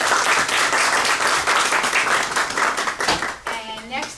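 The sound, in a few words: audience applause for award winner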